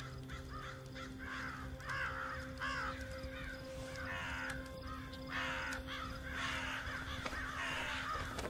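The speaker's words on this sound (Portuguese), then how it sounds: "O que deu nesses corvos?" Crows cawing in a horror film, repeated harsh caws from several birds in rough bursts, fairly near, over a low steady hum, with no talk.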